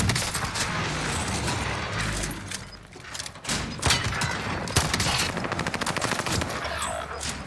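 Shotgun blasts in the Rebirth Island game sound over a constant rumble of battle. They come in quick repeated bursts at full volume and close by, with a brief dip near the middle.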